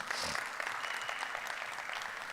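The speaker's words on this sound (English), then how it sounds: "give yourselves a round of applause" An audience at a blockchain summit in Dubai breaks into sustained applause, a dense, even wash of many hands clapping that fills the hall from start to finish without any speech over it.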